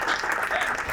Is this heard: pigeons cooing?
no